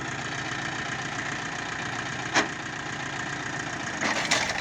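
A tractor engine runs steadily with a homemade disc seeder and press roller hitched for soybean sowing, a constant close rumble with one brief sharp knock partway through and no talk.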